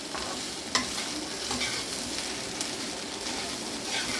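Ivy gourd and coconut stir-fry sizzles steadily in a pan, with a soft continuous fry hiss and occasional scrapes of a spoon stirring close by.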